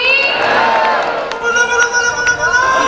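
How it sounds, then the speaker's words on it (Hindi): A crowd claps and cheers at a live devotional event at the Rajdevi temple in Janakpur, loud and close, the clapping swelling and easing over a few seconds. "इसमें जोरदार तालियां देते बोलिए राज देवी मैया की"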